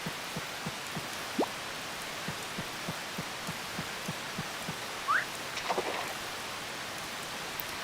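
Steady rain falls in the PS2 farming game Harvest Moon: Save the Homeland, a soft continuous hiss with faint regular thumps beneath and a couple of brief chirpy tones over it.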